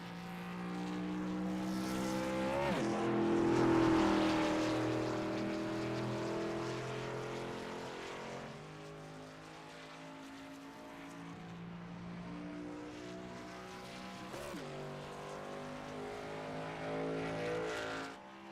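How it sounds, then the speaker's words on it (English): Racing truck engines in a video game drone steadily at high revs at Charlotte, with a couple of vehicles whining past and the pitch dropping as they go by. "Chris Elliott appears to be the first truck to roll"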